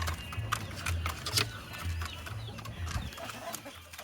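F-35 hens kept together in a pen cluck faintly at a low level over a busy, scratchy background of rustling and scattered noises.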